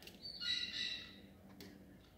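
Pet parakeet giving a couple of short, raspy high squawks and chirps, fairly faint and close, with quiet pauses between calls; no speech.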